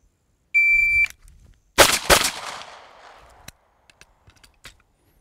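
A shot timer beep is followed by two sharp, loud pistol shots fired in quick succession at targets on a range, with a fading echo and a few faint clicks afterwards.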